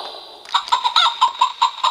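A rooster or similar fowl calls in a rapid series of short, rhythmic squawks and clucks, fairly close and clear, with no talking.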